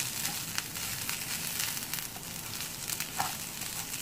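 Chicken cubes sizzle steadily in a hot pan, a constant crackling hiss with occasional sharper pops, moderately loud and close, no voices over it.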